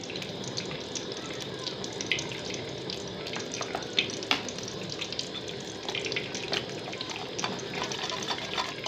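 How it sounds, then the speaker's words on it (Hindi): Water poured from a vessel into cornflour in a kitchen to make batter, a continuous close trickling splash with small drips and clinks, with faint talk in the background. "मैंने कॉर्नफ्लावर लिया है, उसमें थोड़ा सा पानी डालूंगी"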